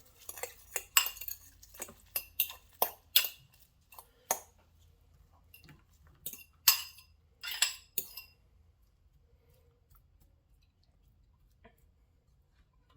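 A utensil clinks and scrapes around a bowl while mixing burrito filling of vegetables, meat and sriracha, giving a quick run of close, sharp taps that trail off into quiet.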